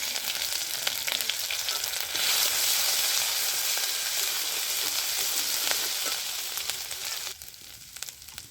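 Grated ginger with dried red chilli, bay leaf and five-spice frying in hot oil, a loud steady sizzle that swells partway through and drops off near the end.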